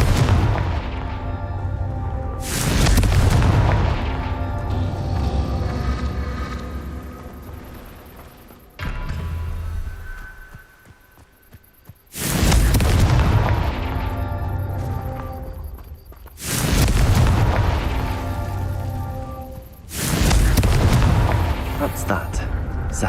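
Confringo blasting spells go off in Hogwarts Legacy as several loud, deep explosions, each a heavy boom with a rumbling tail, separated by short quieter gaps with background game sound.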